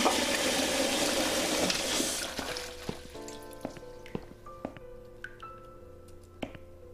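Toilet flush in the video game The Cat Lady: a loud rushing gush of water for about two seconds that tapers into scattered drips and trickling refill sounds.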